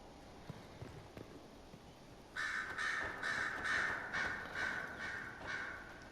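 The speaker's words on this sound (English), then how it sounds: "Is there a bird in here?" Crows cawing in Dragon Age Inquisition, a run of harsh, rhythmic caws that starts suddenly after a quiet stretch of faint footsteps and continues loud and close to the end.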